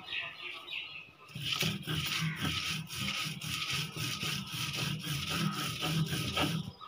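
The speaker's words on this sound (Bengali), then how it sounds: "মাছগুলি বেটে নিতেছি" Small shrimp being ground by hand into a paste for bhorta, heard as steady, rhythmic rubbing and scraping strokes repeating closely and evenly, with no talking.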